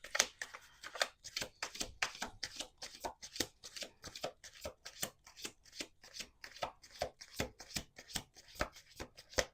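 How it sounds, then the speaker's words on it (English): A deck of tarot-style cards is shuffled close up in a quiet room, with a steady run of crisp riffling bursts and soft slaps repeating roughly every third of a second for about ten seconds, no talking. "One more shuffle."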